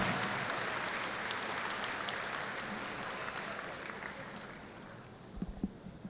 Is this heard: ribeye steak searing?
no